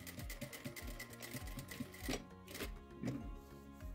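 A sewing machine runs steadily, stitching backward in a rapid mechanical rhythm of needle strokes with brief pauses and speed changes, close and fairly loud, with no talking.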